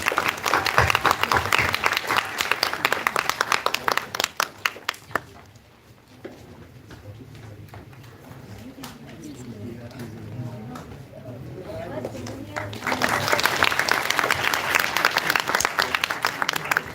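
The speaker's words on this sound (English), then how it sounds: "Big round of applause, guys." Audience applause for speakers being felicitated at a centenary inaugural session of an international conference: loud crowd clapping that fades into a quieter stretch with voices, then swells again into strong clapping.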